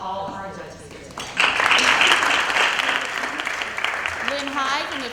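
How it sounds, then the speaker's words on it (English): Applause for the judges at a nonprofit awards event: talk at the start gives way to a sudden swell of many hands clapping that holds steady, with a voice rising over the clapping near the end. "let's give a round of applause to all of our judges here today"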